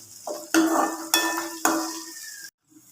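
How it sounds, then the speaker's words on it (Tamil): Onions sauté in plenty of oil in a pan, with three firm stirring strokes of a spoon scraping through the sizzle before the sound cuts off near the end. "வெங்காயம் எல்லாம் நல்லா வதங்கி எல்லாமே தனித்தனியாக பிரிஞ்சு வந்துருச்சு"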